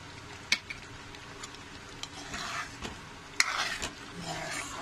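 Amul cream is stirred into a paneer lababdar gravy, with a soft simmering sizzle and a few sharp spoon taps and clinks against the pan at close range.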